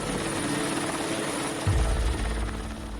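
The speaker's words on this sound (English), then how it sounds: "Helicopters are used to transport the ground troops to this inaccessible battlefield." Helicopters carrying ground crews to a mountaintop wildfire line, their rotors throbbing loud and steady with a constant whine above. A deeper thumping surge comes in partway through as one passes closer, and no one speaks.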